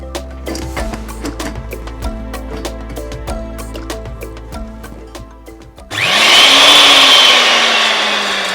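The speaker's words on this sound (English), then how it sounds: "So like a blender." A blender starts up and runs with a loud, high whirring roar whose pitch climbs and then steadies. Sharp clicks and knocks come before it starts.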